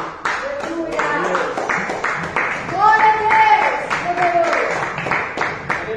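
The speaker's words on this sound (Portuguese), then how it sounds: "Pode aplaudir a Cristo Jesus." Rhythmic hand clapping at a church service keeps a steady beat beneath loud voices singing or speaking together.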